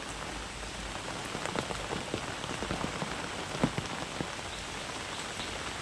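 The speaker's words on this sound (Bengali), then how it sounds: "এত দ্রুত এবং এত ভারী বৃষ্টি হচ্ছে" Steady heavy rain pours down on a rooftop garden, a dense hiss of drops striking a surface with scattered louder splats throughout, no voices.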